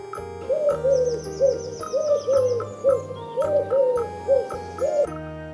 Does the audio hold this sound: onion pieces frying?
no